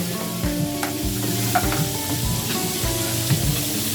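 Fried chicken sizzles loudly over open flames at a sisig restaurant, a steady dense crackle with scattered pops and clinks of stirring throughout, no voices.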